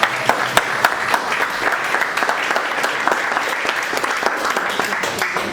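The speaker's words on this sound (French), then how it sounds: "eux, ils méritent des applaudissements." An indoor audience at La Frégate in La Seyne-sur-Mer claps in warm, sustained applause, a dense patter of many hands that holds steady throughout with no voice on top.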